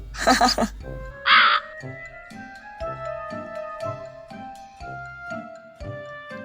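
A crow caws loudly a few times at the start, over tinkling bell-like music with a steady rhythm and a voice speaking Tagalog, in an animated film.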